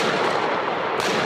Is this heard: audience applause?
no